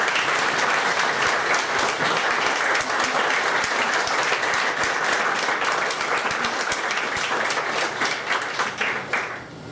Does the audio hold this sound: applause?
yes